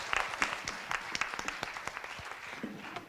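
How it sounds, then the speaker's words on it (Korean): Audience applause at a university Tigers Day session, a thin, moderately distant patter of scattered claps with irregular sharp peaks, fading slightly over about three seconds. "박수로 시작하겠습니다."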